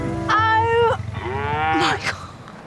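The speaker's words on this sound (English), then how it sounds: "I don't know if I've seen a cow that close before." A cow moos loudly at very close range in Somerset, two long drawn-out lowing calls in a row with rural background noise around them.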